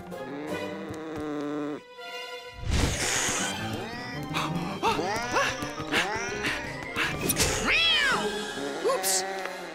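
A house cat meows and wails repeatedly in rising, drawn-out cries, close and loud, with a brief pause near the start before a sustained run of plaintive yowls.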